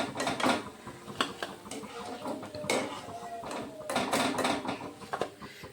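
Fried kalo jam sweets lifted one by one out of a frying pan, with light metal clinks of utensil against pan and scattered clatters over a steady frying sizzle.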